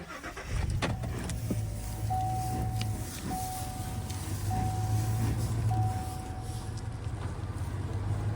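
A truck creeps slowly forward with a steady, close engine rumble that holds throughout. A faint, intermittent high tone sounds over the rumble.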